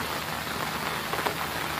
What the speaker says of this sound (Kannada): ಈ ಸೈಡು ಒಂದು ವಾರದಿಂದ ಒಳ್ಳೆ ಮಳೆ ಇದೆಯಂತೆ